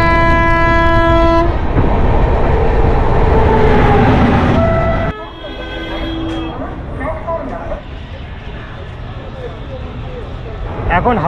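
A train at Howrah station, with the Tamralipta Express on platform 19, rumbles loudly nearby. A long horn blast is followed by clattering wheels and station noise, with some voices in the background.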